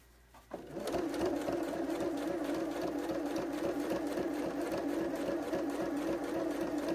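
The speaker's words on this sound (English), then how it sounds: "I'm going to do the exact same thing here that I did when I was sewing up the actual pocket" Sewing machine stitching a fabric pocket for an advent calendar, starting after a brief quiet moment and then running as a steady, rapid mechanical whir with a fast rhythmic needle clatter, close and alone.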